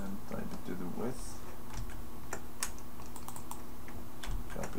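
Keys clatter on a computer keyboard with irregular, fairly quiet clicks and taps. A person talks over part of the typing, and a faint steady hum runs underneath.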